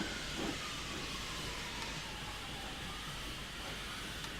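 A K1 steam locomotive pulls into a station on the Hamilton branch line, giving off a steady, broad steam hiss that holds at an even level throughout, with faint rail rumble beneath and no voices.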